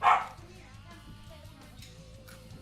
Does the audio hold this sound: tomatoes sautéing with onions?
no